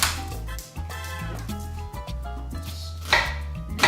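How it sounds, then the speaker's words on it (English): A knife julienning red onion into thin strips on a cutting board, heard as steady, fairly close rapid chopping strokes over a sustained musical background, with no talking. "what we're gonna do is julienne up our red onion"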